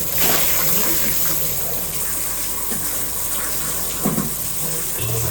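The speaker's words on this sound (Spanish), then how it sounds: "Para que se den cuenta la cantidad de agua que cae." Heavy rain pours down hard outdoors, a loud continuous rushing and splashing of water with a few sharper spatters and knocks.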